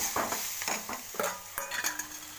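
A spoon scrapes and clinks against a pan while curry with turmeric and coriander leaves is stirred and mixed, in short repeated strokes over a faint sizzle, close and fairly quiet.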